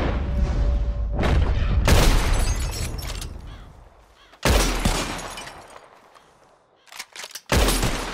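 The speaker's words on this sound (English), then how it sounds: "Who can shoot the most bottles? Just draw your gun and aim when you're ready" Gunshots from a drawn revolver as bottles are shot in the video game Red Dead Redemption 2: several loud, sharp cracks with ringing tails, spaced unevenly, ending in a quick cluster of shots.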